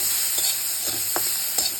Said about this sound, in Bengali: এবার এর মধ্যে দিয়ে দেব কুচনো পেঁয়াজ, দিয়ে দেব সামান্য নুন। পেঁয়াজটাকে ভালো করে ভেজে নেব।